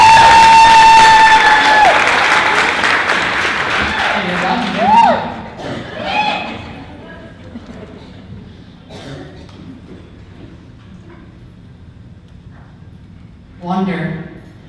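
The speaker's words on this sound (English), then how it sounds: "he needs an extra round of applause" A crowd at a Ms. Wheelchair America speech night applauds and cheers loudly, and the clapping fades over a few seconds. A brief second burst of clapping follows later, with people talking in between.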